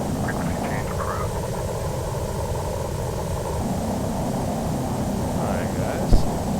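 A Boeing 737 takes off in the FSX flight simulator, its jet engines a steady, loud broadband roar that holds evenly throughout, with a brief bump near the end.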